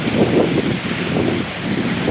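Heavy water rushing through a dam in Tampere, a steady, loud broadband roar close to the microphone with wind buffeting and no talk.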